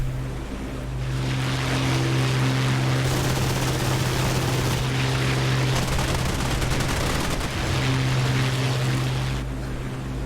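Paired 20mm cannons on a warbird fire in the DCS World flight sim, a loud dense roar of rapid fire over a steady engine drone, running almost continuously.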